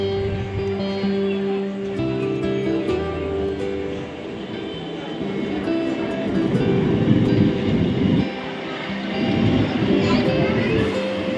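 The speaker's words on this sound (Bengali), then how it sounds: "দেখতে দেখতে ট্রেনটি ঢুকে গেল" Train pulling into a station near Madhyamgram, loud close rumble and grinding wheels swelling as it rolls in, with voices talking beneath.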